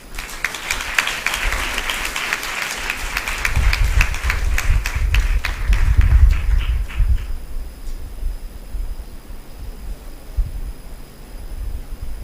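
An audience at a school event claps in welcome, the applause full and steady for several seconds before thinning out and fading to a quiet room with a faint high hum.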